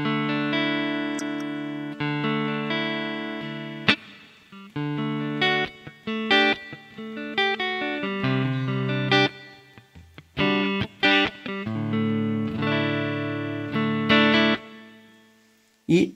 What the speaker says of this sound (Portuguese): Vou ligar então o reverbzinho, o old school, para dar aquela molhada no som